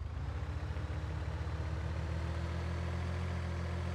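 A small Landini tractor idles in the farming game Pure Farming 2018. The engine gives a steady, low, throbbing drone at an even rhythm, moderately loud and alone without any talk.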